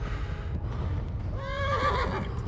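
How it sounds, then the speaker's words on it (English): A horse in Kingdom Come: Deliverance lets out a loud, wavering whinny after a stretch of rumbling hoofbeats and low background noise, the neigh rising sharply and then trailing off. "Uh-oh, horse is gonna buck me off."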